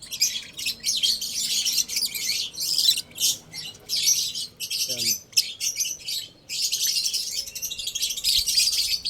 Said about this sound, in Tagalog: medyo maingay sila no, tanghali. Alam mo may ibang dayong ibon eh.